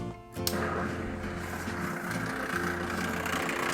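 Steady, rough mechanical hum and rumble from a noisy aquarium external filter, three years old, with impeller trouble, running continuously at close range with no voices.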